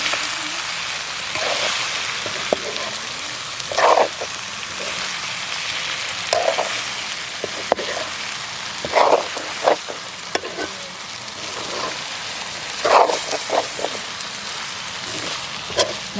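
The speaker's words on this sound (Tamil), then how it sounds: "இப்போ உங்களுக்கு இதில் பொரியிற மாதிரி சத்தம் கேட்குது." Steady crackling sizzle of chicken frying in hot oil, close by, with occasional louder scraping stirs breaking through the hiss.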